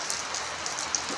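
Heavy rain pours down steadily, a dense, even hiss of drops drumming on surfaces, close and continuous with no voices.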